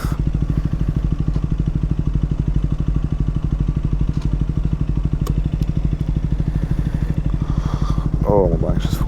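Motorbike engine idling in a queue at a McDonald's drive-thru, a steady loud low throb with rapid even pulses throughout, a brief rev or rattle near the end.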